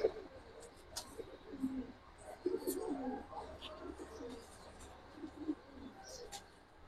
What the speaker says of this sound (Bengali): নর মাদি দেখে একদম ডাকাডাকি শুরু হয়ে গেছে, প্রচুর ডাকে মাশাআল্লাহ।